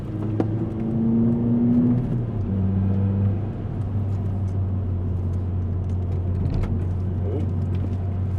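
A 2011 Mazda 2 driven sideways on snow, its engine a steady droning hum that rises briefly as it revs, with low road rumble throughout and no clear talk.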